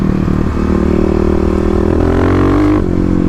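A Kawasaki KLX351 dirt bike runs on an Oregon forest trail, its engine droning close and steady, then rising briefly in pitch near the end.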